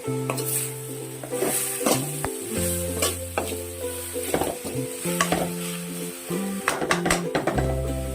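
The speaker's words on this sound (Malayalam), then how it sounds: "ഇനി നമുക്ക് ഇതൊന്ന് ഇളക്കിയിടാം" Drumstick leaf thoran stirred in a pan on a low flame, with repeated spoon scrapes and clinks over a steady close sizzle, no voices.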